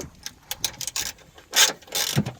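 A 13 mm ratchet clicks in quick uneven bursts while tightening the bolt on a Holden Commodore VE/VF coolant reservoir bottle, close up, with scraping and knocking of the tool between strokes.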